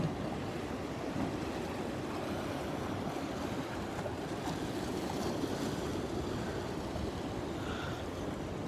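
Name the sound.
ocean waves washing against coastal cliffs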